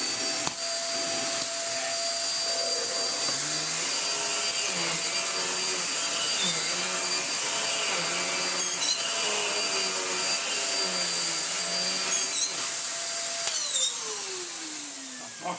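Morphy Richards Perform-Air 73381 upright bagless vacuum cleaner running nearby, a steady loud whine with a high tone, shifting pitch as it moves, then spinning down near the end.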